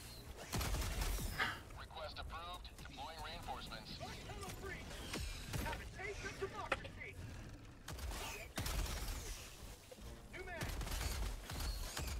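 Breaker Incendiary shotgun firing in Helldivers, with several heavy, sharp blasts spread through a dense, chaotic battle. Loud mechanical clatter fills the gaps, and voices talk over much of it.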